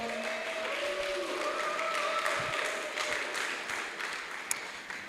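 Audience at a conference hall giving a sustained round of applause to welcome a speaker, a dense, even wash of many hands clapping at moderate distance, with faint tonal sounds mixed underneath.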